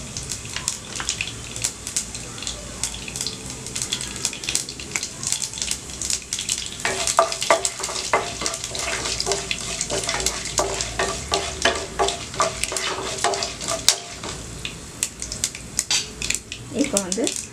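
Chana dal, urad dal and black pepper sizzle steadily in hot oil in a pan, a continuous crackling fry with occasional stirring scrapes and clinks throughout.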